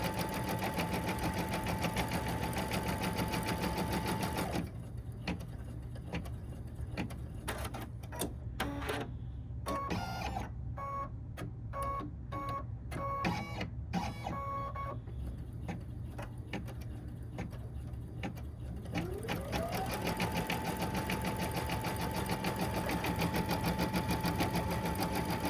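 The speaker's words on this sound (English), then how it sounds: "The first step here is going to be stitching on your stabilizer directly, just so you get a placement of where you need to place your vinyl." An embroidery machine stitches a simple outline directly onto stabilizer for a vinyl barrette cover, a busy rapid mechanical chatter with rhythmic needle pulses running for about fifteen seconds between steadier hum, alone and fairly close.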